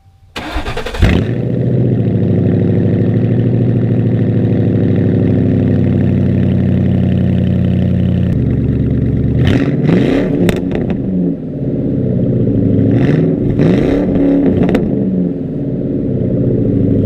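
A car with a muffler delete and Cobra R side exhaust cranks to life and idles with a deep, loud rumble, then revs hard in two bursts before dropping back to idle.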